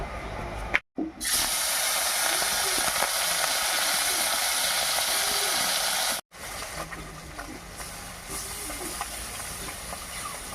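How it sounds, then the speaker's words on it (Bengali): Small tangra fish fry in hot mustard oil in a kadai, giving a loud, continuous hissing sizzle close up, broken by two brief silences, with faint clinks under the spatter. "এবারে ট্যাংরা মাছগুলো খুব হালকা করে ভেজে নেব"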